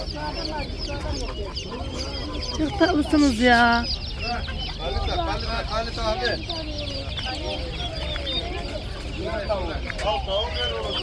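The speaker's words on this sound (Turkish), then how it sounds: "Bakın orada horozlar, tavuklar, pazar böyle." Roosters and chickens cluck and call at an open-air market, a dense, continuous chorus of fowl with a loud squawk near the start, while a person talks over it.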